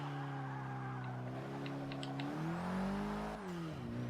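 A hot hatch engine drones in the Forza Motorsport 6 racing game, a steady tonal hum that climbs and shifts pitch through gear changes, with brief faint chirps over it and no talk.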